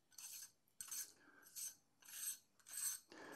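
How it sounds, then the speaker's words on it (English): The lugged front ring of a LEE SW150 filter holder is unscrewed in short turns, making five quiet gritty rasping bursts separated by brief pauses, close-up and with no voice. "at the moment, it's all put together. So we have to unscrew it"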